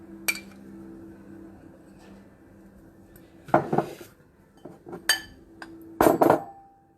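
Spoons scoop peanut butter from a jar into a bowl, sharp metallic clinks and knocks against glass coming in scattered bursts over a quiet kitchen background.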